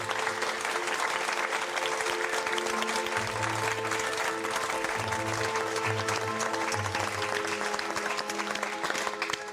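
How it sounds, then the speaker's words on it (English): A studio audience applauds the shortlisted artists at a portrait painting competition, a steady, even patter of many hands that holds at moderate volume throughout with no voices on top. "please join me in giving them some well-deserved applause"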